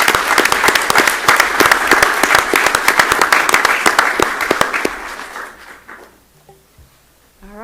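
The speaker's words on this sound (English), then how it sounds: "Let's give everybody another round of applause." An audience at a school board of education meeting claps loudly and steadily for several seconds, then the applause thins out and fades to a few scattered claps before near silence.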